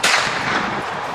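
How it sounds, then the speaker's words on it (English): A single close, loud gunshot at an outdoor gun range, a sharp blast followed by a broad booming echo that fills the short moment. "was just shooting at a jug back here, downrange"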